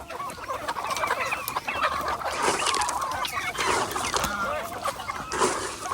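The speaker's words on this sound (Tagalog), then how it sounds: "At kakain na rin sila." Several chickens cluck and chatter together nearby while eating yellow corn, a busy, continuous flock murmur with sharp occasional calls and no talking.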